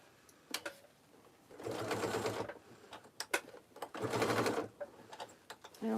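A sewing machine stitches a tote bag with two sustained runs of rapid mechanical whirring, separated by quiet pauses holding a few sharp clicks and taps.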